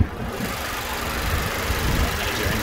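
A 2019 Nissan Qashqai idles with the bonnet open, a steady close engine hum with light mechanical ticking and no talk.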